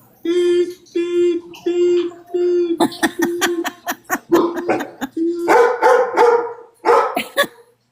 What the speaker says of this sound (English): You got the dogs going.